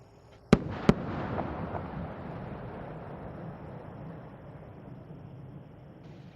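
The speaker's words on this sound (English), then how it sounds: "the space shuttle announces its arrival at the launch site with its signature sound of twin sonic booms" Space Shuttle Atlantis arriving at Kennedy Space Center in the pre-dawn sky sends two sharp sonic booms in quick succession, followed by a long, rumbling decay of distant outdoor reverberation.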